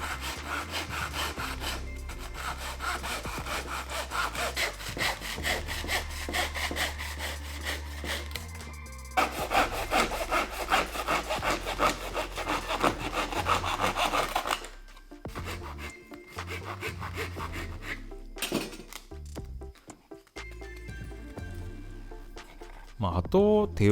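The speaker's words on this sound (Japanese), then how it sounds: "余分なところをカットしていきます。" A hand saw cuts off excess plywood from a wooden Gundam model, with close, rhythmic back-and-forth rasping strokes in long runs broken by short pauses.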